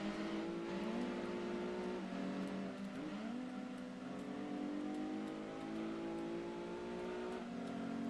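A race car engine in Gran Turismo 2 whines steadily at high revs, its pitch sliding up and down through gear changes, sustained and fairly quiet with no talk.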